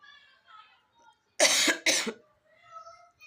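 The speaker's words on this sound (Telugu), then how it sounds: "దగ్గు అయితే ఫుల్గా వస్తుంది" Two loud, harsh coughs in quick succession, close to the listener, with quiet murmuring speech before and after.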